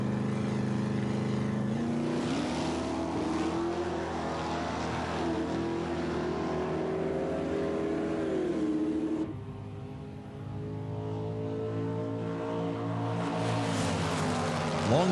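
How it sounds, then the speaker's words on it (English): A Pontiac GTO and a Chevrolet Malibu muscle car drag racing at a 1992 factory stock event, engines roaring steadily with rising and falling revs, a brief dip midway, then pulling hard again. "Tony Longtree in the GTO against Chuck Kilo's Malibu."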